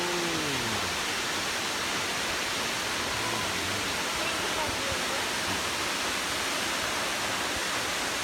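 Water pours down the Yeuang waterfall near Pakxong, a loud, steady broadband rush that never lets up, with a faint voice briefly audible at the very start.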